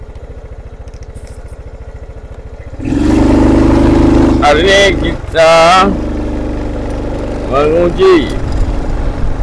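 A motorcycle is ridden at high speed. After a quieter opening, a loud, steady engine and wind roar takes over, while someone talks over it.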